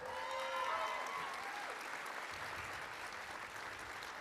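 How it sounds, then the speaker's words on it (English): An awards ceremony audience, at the 73rd Thunderbird Awards at Southern Utah University, gives a steady round of applause, a broad even wash of many hands that sounds somewhat distant and subdued, with a few whistles at the start. "Let's give her a round of applause"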